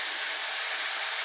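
Cabbage hitting a hot pan, a steady dense sizzle that stays loud and close throughout with no voices.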